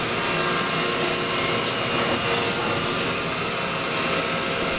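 A Haas VF-9 vertical machining center makes a 1/8 inch cut, producing a steady, loud whine with a sustained high tone and constant broadband hiss throughout, no voices.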